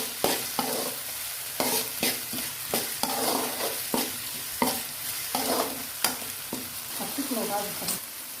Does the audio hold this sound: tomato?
yes